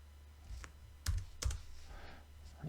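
A few scattered keystrokes on a computer keyboard, soft clicks with pauses between them, close by in a quiet room.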